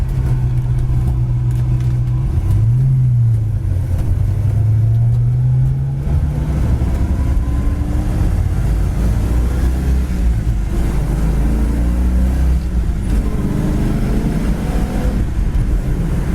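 A 1968 Plymouth Satellite convertible drives along, its engine droning up in pitch and dropping as it shifts through the gears, a continuous loud rumble inside the car with no voices.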